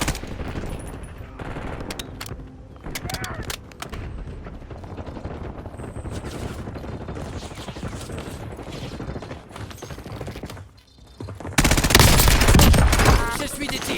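Gunfire from the video game Warzone: repeated rapid bursts and single shots crackle throughout, building to a loud, dense volley near the end, with faint game voices beneath.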